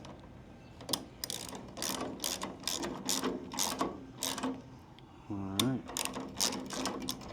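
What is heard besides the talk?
firewood conveyor chain mechanism running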